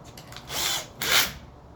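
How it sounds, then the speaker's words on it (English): A power nut driver runs in two short bursts while driving nuts on a sign installation, a whirring buzz that rises, stops briefly, then returns louder before cutting off, close by with no talk. "So I'll put my nut driver back on."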